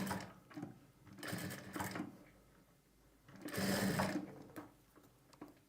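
Sewing machine stitching piping and lining, running in several close bursts of rapid stitching with short pauses between them.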